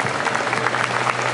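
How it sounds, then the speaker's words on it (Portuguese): At a Campus Party Brasil talk, the audience breaks into applause, a short burst of steady, energetic clapping heard up close. "eu queria uma salva de palmas para o meu amigo Fábio"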